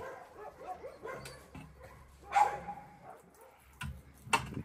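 Big dogs at an animal shelter make a mix of whimpers, yips and a few sharp barks, scattered irregularly at close to moderate distance.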